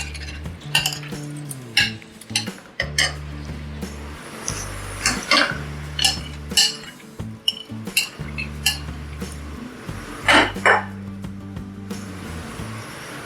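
Barley porridge for talbina stirred in a saucepan, with repeated metal spoon scrapes and clinks against the pan in an uneven rhythm, close and clear with no talking.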